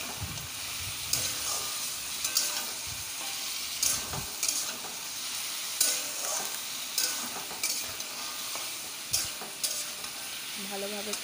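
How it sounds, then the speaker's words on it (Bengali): Chicken with skin and feet sautéing in a pan, a constant hissing sizzle broken by regular scraping stirs every second or so, close and steady, with no voices. "ভালো করে এবার কষাতে হবে।"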